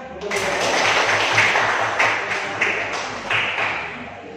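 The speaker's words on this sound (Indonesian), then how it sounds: "Tepuk tangan." A room of people breaks into applause, dense clapping that swells and holds for a few seconds before tapering.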